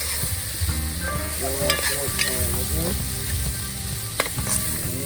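Okra with curry frying in oil at an outdoor Jamaican cook spot, a steady close sizzle under a background of overlapping voices and faint clinks.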